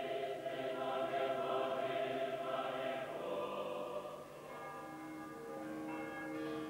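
Moscow church bells ring together in a rich, sustained peal celebrating a new tsar, resonant and somewhat distant, their tones overlapping and fading.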